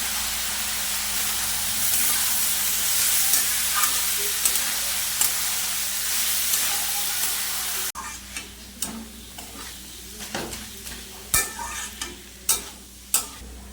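Chopped banana flower being stirred and mashed with spices in a hot frying pan, a steady loud sizzle for most of the time, then separate scraping stirs with sharp clinks of the spoon against the pan.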